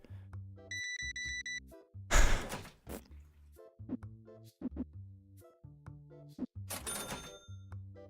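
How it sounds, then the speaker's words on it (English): Loud cash register chimes and scanner beeps in a card shop video game, a bright beeping tone early on, then two harsh crashing rings of the register drawer with steady mechanical thunks between them, close and without voices. "Like the cash register sounds, the scan sounds, they're so loud."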